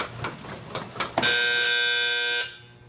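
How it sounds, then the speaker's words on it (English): A Loma industrial metal detector sounds its alarm as a metal test strip passes through, a loud steady electronic buzz lasting about a second after some faint mechanical clicks, then cutting off abruptly. "You can see it stops immediately when it detects the metal."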